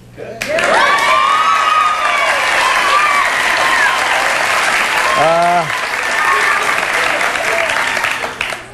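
Loud, enthusiastic studio audience applause on a live morning talk show, continuous clapping with whoops and cheers, a brief voice rising above it midway.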